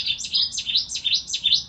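A Cetti's warbler sings a loud, close burst of rapid, sharp repeated notes in a quick rhythmic series, explosive and clear with no other sound around it.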